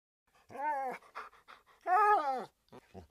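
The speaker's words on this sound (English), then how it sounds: "The dog cried and tried to escape" A small dog, a young female stray just caught while drinking from a puddle, cries out in two long, loud whimpering yelps with short panting breaths between them.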